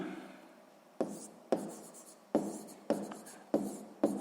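A pen writes on paper during a sixth-grade math exercise, with about six short, close scratchy strokes in an irregular rhythm in a quiet room.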